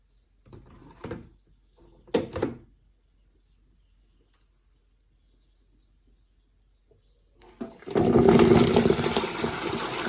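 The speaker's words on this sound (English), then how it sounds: "all that splattering?" After a few brief knocks and near silence, a loud burst of crackling hot oil at about 350 degrees erupts as spinach is added, sputtering and spattering close up.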